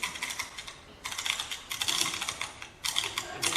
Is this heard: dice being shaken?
yes